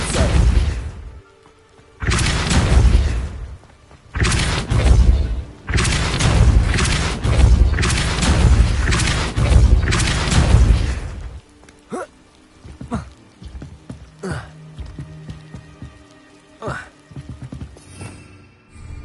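The Depulso spell cast in Hogwarts Legacy, heard as a series of heavy booming magical blasts in quick repeated bursts, loud and close, followed by quieter scattered thuds and clicks of game sounds.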